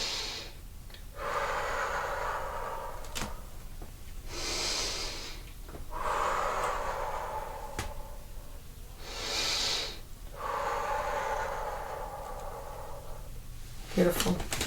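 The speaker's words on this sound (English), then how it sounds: "Breathe in through your nose." Slow, deliberate breaths in through the nose during a guided breathing exercise, several long airy inhales and exhales in a steady rhythm, close and fairly soft.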